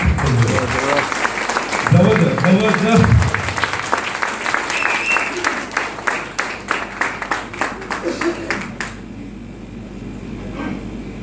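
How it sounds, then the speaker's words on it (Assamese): An audience applauds at a milestone award event, the clapping building to a dense, steady roar for several seconds and then thinning into scattered claps before fading out, with a voice speaking over the start. "হাত চাপৰিটো জবৰদস্ত নহ'লে জবৰদস্তি"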